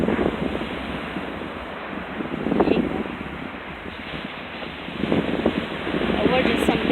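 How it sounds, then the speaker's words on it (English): Big ocean waves break and wash in a loud, rolling roar, swelling in surges every few seconds, with gusty wind buffeting the microphone throughout. "I'm just watching the waves"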